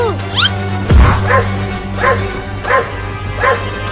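A cartoon dog barks loudly and close in a series of sharp, evenly spaced barks, about five in a row, with a higher yip at the start and no talk.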